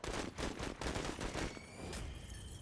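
Units firing in the video game Menace produce a dense, rapid burst of gunfire with overlapping shots, loud and continuous through the opening and thinning toward the end.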